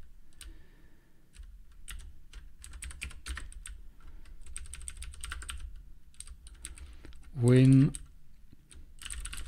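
Rapid clicking of computer keys typed in bursts while a unit test is written, fairly close and steady, with a short loud interjection partway through and a word spoken.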